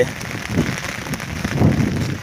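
Heavy rain pours down and overflows a dam, a dense, steady hiss of drops striking surfaces, fairly close and loud throughout, with slight bursts of low rumble.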